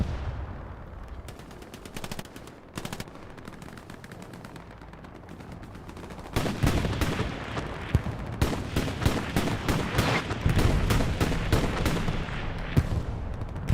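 Dense gunfire from the WWII shooter Hell Let Loose, on the Tobruk map, crackles in rapid machine-gun bursts and scattered shots, growing louder and heavier midway with booming artillery-like blasts.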